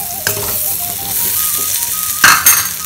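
Sundal, chickpeas seasoned with spice powders, sizzles loudly in a pan while a spoon stirs and scrapes it, with two sharper clatters near the end and no talk.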